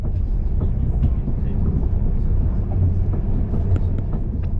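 Onboard a Northern Class 195 commuter train while running, a steady low rumble and rolling hum of wheels and motors with faint rhythmic rail clicks throughout.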